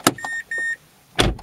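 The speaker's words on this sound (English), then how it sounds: "You close and open the door three times." A Mazda car door shut and opened: a sharp thud, then a steady two-part electronic chime, then a second solid slam near the end, all close and loud with no one talking.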